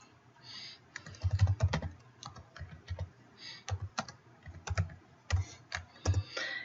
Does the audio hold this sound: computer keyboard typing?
yes